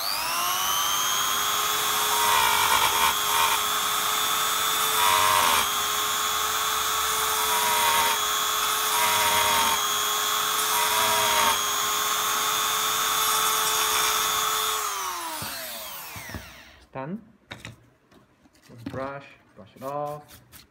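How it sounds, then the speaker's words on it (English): A 3 mm ball grinder grinds material away while mounting screws into an acrylic base, giving a steady high-pitched whine for about fifteen seconds that then winds down and stops, followed by a few soft scraping and handling sounds. "Use a ball grinder, 3 mm."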